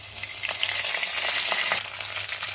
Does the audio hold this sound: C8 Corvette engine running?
no